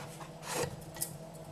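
A Wilton baking cutter slicing through a bar of homemade soap gives a single short, soft rasping scrape, close and quiet, with no talking.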